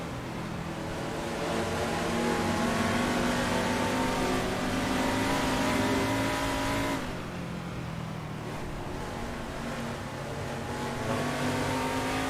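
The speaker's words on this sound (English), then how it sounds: "These Cooper Monacos are quite loud." Several Cooper Monaco race cars with loud V8 engines run close together in the Assetto Corsa racing game at the Goodwood Revival circuit, a dense, rising and falling engine roar with gear changes and no talking.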